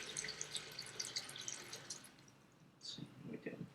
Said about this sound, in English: Now we're going to toss in just about 3 cups of water here.